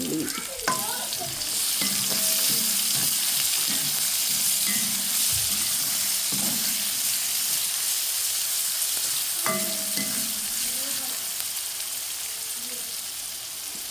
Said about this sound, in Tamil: ஓகே இப்போ எல்லாம் போட்டு இருக்கோம் வதங்கட்டும் நல்லா.